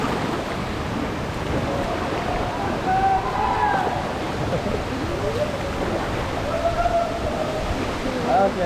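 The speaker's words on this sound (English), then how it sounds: "Big waterfall." A big waterfall seen while river rafting in Bali roars as a steady, dense wash of falling water, loud and close, with voices faintly audible beneath the rush.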